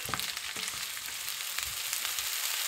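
Malaysian-style shrimp noodles stir-frying in a pan with peppers and mushrooms, giving a steady, close sizzling hiss with faint stirring bumps throughout.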